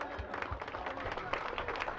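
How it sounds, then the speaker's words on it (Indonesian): Broadband clapping from a crowd at a children's Sunday school jamboree fills the clip evenly, a dense steady patter of many hands at moderate level, with no clear voices over it. "kita sambut dengan tepuk tangan."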